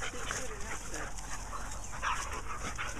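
Puppies romp together nearby, giving off soft whimpers, panting and the odd yip against a constant hiss.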